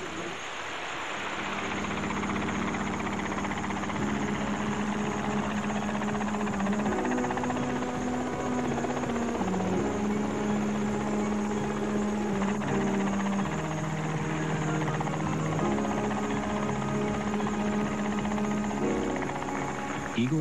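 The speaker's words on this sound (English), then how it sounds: "Igor tackled the world helicopter endurance record with the VS-300 in this configuration" A Sikorsky VS-300 helicopter in its 1941 modified layout flies with a continuous droning engine and rotor hum at steady loudness, alone and without talk.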